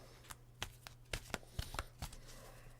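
Quick, crisp riffling bursts of playing cards being shuffled, a handful of sharp flutters spaced irregularly over a faint steady hum.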